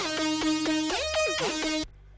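Two-layer synth lead from a future house track, playing a bright harmonic melodic line with a pitch-bend swoop near the middle, following a volume automation, then cutting off abruptly into silence.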